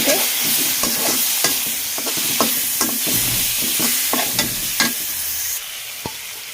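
Chopped ingredients being stir-fried with onion and garlic in a hot pan: a continuous loud sizzle broken by frequent sharp scrapes and taps of the spatula, close up, easing slightly toward the end.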